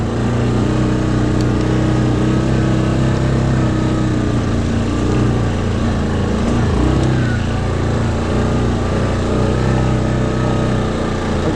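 Yamaha Grizzly 700 SE ATV engine running at a steady idle, a continuous close mechanical drone with a faint rattle and no clear revving.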